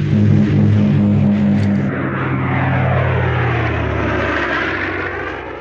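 A propeller airplane at an isolated airfield in an 80s film, a loud engine drone that holds steady and then slowly shifts in pitch as the aircraft passes and recedes.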